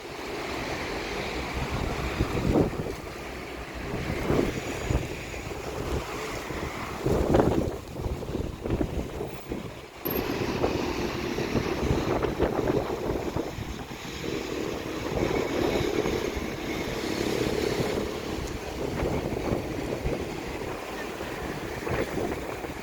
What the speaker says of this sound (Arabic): اليوم رياح قوية